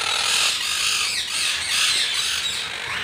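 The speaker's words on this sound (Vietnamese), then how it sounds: "Vẹt thầy tú sinh sản nha mọi người, loài này nuôi sinh sản nha" Long-tailed monk parakeets squawking in a breeding cage, a continuous stream of harsh, shrill calls overlapping one another, close and fairly loud.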